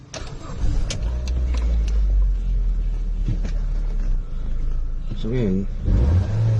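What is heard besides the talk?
Ford Focus engine starting and running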